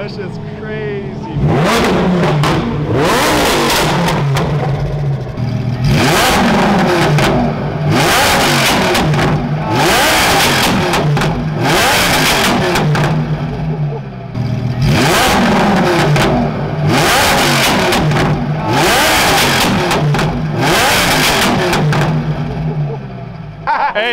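A car engine revs hard in repeated loud bursts, climbing and dropping in pitch over and over for about twenty seconds, close and dominant, with people talking underneath.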